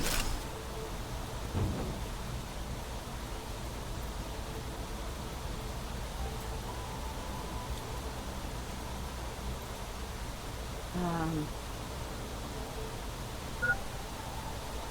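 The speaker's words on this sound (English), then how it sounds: "It's pouring down rain." Steady heavy rain in the video game Final Secrets of Selenea, a continuous broadband hiss with a few faint low rumbles and brief tonal blips, no talking.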